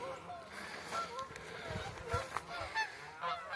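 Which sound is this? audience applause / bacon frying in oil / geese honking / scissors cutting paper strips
geese honking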